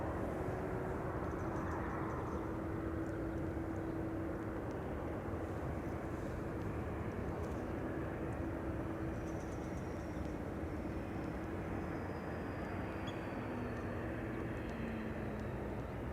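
Delta aircraft taxi at Amsterdam Schiphol, a continuous low jet-engine drone with a faint steady whine, heard at a moderate distance throughout.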